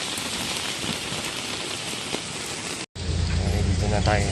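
Heavy rain pours during a storm in Baguio City, a steady dense hiss that briefly cuts out, then returns louder and closer with a low rumble beneath.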